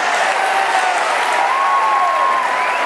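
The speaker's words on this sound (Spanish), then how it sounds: "Eddie Calderón, un fuerte aplauso." An audience at a political event gives steady, sustained applause, a dense wash of clapping that holds evenly throughout, with no talking.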